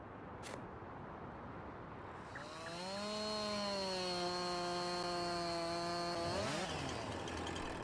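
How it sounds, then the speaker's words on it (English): A chainsaw in Farming Simulator 19 revs up and cuts through wood in one long, steady, loud burst, then drops off sharply near the end. "Chainsaw still works."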